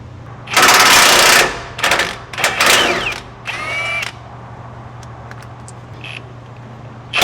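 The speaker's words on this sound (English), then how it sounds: "I'll use my impact again to get the other one off." An impact wrench removes the sway bar nuts on a Ford Raptor in bursts of loud, rapid hammering. A long first run is followed by several shorter rattling bursts, then quieter clinks in an otherwise quiet workspace.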